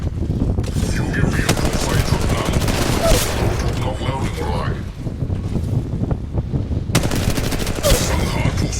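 Gunfire in the mobile battle-royale game Apex Legends, with dense bursts of shots running through the whole stretch under continuous game noise and voices.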